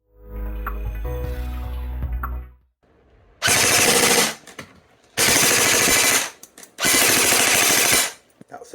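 A Double Bell AK023 full-metal-and-wood airsoft AK firing full auto into a chronograph, three loud sustained bursts of rapid buzzing shots separated by short pauses, preceded by a steady mechanical hum.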